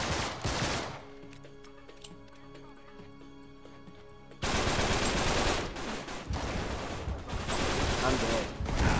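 Gunfire in the Uncharted 3: Drake's Deception video game during a settlement shootout: a short burst opens, a quieter stretch follows, then loud, sustained rapid fire runs through the second half.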